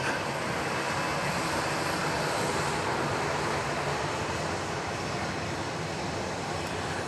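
Continuous broadband roar of a Southwest Airlines jet at Dallas Love Field Airport, a loud steady engine rush heard from a distance with no voices.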